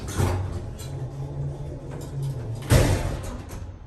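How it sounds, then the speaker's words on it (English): Loud slide and slam of a sliding car door on a Westinghouse hydraulic elevator in the Hunter Building, Galveston, Texas, with an early rumble, a steady low hum, then a sharp bang near the end. "Jeez, that door's loud."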